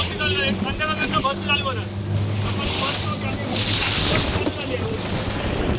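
Rough, unsettled sea at Devbagh near Malvan churns as a steady broadband wash of surf mixed with wind buffeting the microphone and a boat's engine, while people talk over it.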